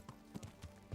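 Horse hooves clip-clopping in the medieval game Kingdom Come: Deliverance, several quick muffled footfalls in an uneven gait, soft and fairly close.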